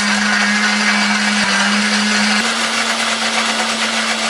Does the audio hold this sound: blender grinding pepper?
yes